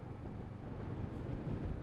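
Wind buffeting a microphone outdoors on a gusty day before a ride on a Kawasaki Z650RS motorcycle in Murray Bridge: a steady, low, rumbling roar of constant loudness, with no voices.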